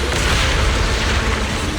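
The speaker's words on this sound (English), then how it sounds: "Move in during the gaps between explosions." Explosions in a video game, a dense continuous roar of booming blasts that fills the whole range, loud and without talk.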